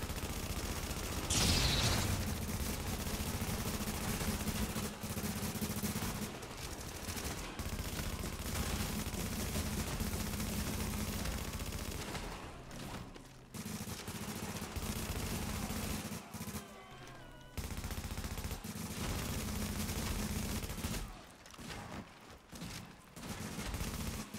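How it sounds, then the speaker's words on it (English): Dense, sustained gunfire from many weapons, shotgun blasts among them, fills a firefight at Grand Central Station in The Division, loud and continuous with a few brief gaps and no talk. "Oh, look at all the shotguns getting shot for it."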